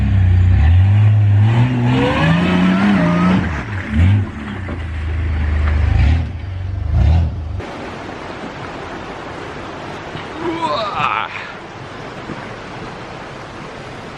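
A 4WD Land Rover engine revs hard in gear at an off-road winching competition, a loud, low rumbling roar whose pitch climbs and falls in surges before dropping away to wind and rustling.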